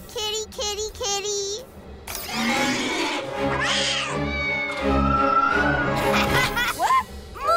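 A cartoon cat meows and caterwauls in a series of close, expressive cries mixed with animated voices and laughter, heard over a busy, loud soundtrack.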